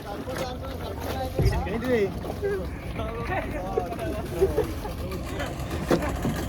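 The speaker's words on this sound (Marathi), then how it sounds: "ते बोट येत आहे आमच्याकडे पेट्रोल द्यायला." A motorboat on open water, its steady engine drone mixed with wind buffeting, heard under people talking throughout.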